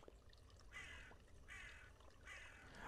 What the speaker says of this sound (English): I think every time the crow uh, makes noise